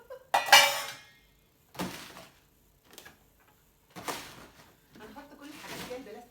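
Dishes are handled and stacked in a home kitchen, several separate clinks and clatters of plates and cutlery spaced a few seconds apart, close and fairly loud, with a voice heard at times.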